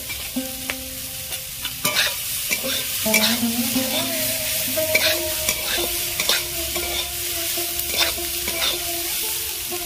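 Chili, coriander and cumin powders fry in hot oil for a Bengali vegetarian dish while a utensil stirs them steadily. Close, continuous sizzling is broken by repeated scraping strokes, with no talking.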